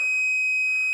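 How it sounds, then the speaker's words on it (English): A 555 timer oscillator circuit gives off a loud, steady, unbroken electronic tone that holds at the same pitch for about a second. "you're hearing a 555 timer oscillator"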